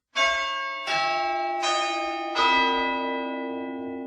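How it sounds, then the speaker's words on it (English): Church bells ring out in the Suffolk market town of Framlingham, four loud struck tones with long ringing harmonic overtones that overlap and decay, no voices. "One thing that has resisted the winds of change are the church bells."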